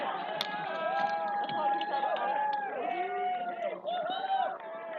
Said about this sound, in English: Hearing the cheering. The boys cheering on the girls as they come across.